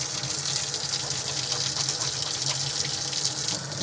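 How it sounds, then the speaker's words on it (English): Running tap water splashes steadily into a sink as ink is scrubbed off hands with soap and a Ranger Craft Scrubby, a continuous close gushing wash with no talk. "I'm using a Craft Scrubby from Ranger to try to get as much ink off my hands as possible."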